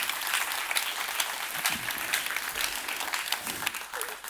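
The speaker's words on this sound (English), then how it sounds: "Round of applause, everyone." A conference audience applauds after a talk on crypto self-custody, steady dense clapping filling the whole stretch with a few louder claps near the front.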